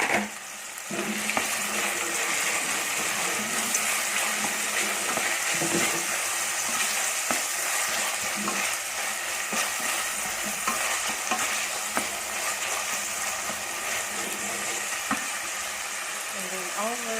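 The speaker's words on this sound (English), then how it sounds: "Then let's add the frozen green peas." Frozen green peas fry and are stirred in a pan for a creamy mushroom sauce with salmon, giving a loud, continuous sizzle with scraping stir strokes throughout.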